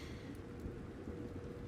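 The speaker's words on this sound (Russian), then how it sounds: "здесь дождь идет, что ли? На этой планете есть дождь? Буря какая-то." Steady, even rain hiss from the sci-fi game The Invincible, a continuous stormy wash on an alien planet with low rumble underneath, moderately quiet and unbroken, no voices.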